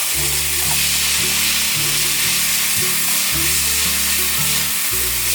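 Shredded cabbage with rose salt and black pepper sizzles and crackles steadily as it is stir-fried in a hot pan, with the rhythmic scrape of a spatula tossing it throughout.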